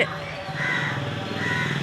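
Two harsh crow caws ring out about a second apart over a steady outdoor background, with a voice murmuring faintly underneath.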